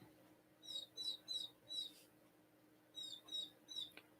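A small chick cheeps repeatedly, high thin peeps coming in two quick bursts of four with a short pause between, fairly close and quiet.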